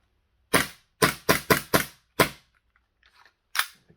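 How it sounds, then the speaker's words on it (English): Cybergun CANiK TP9 Elite airsoft pistol firing 0.2 gram BBs on green gas: six sharp, close snapping shots in a quick irregular string, then a short pause with faint mechanical clicks and one more shot. "You can't pull the trigger without hitting that paddle there. There's the wall, which is the bar hitting the back of the valve, and then you load it up with pressure and then it fires."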